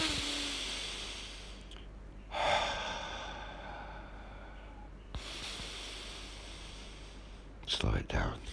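Slow, deep breaths drawn and released with long airy hissing inhales and sighing exhales, spaced several seconds apart and heard close against a quiet background.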